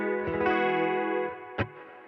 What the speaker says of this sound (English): So the melodic idea that I have is quite atmospheric, so I'm actually going to add some delay and reverb.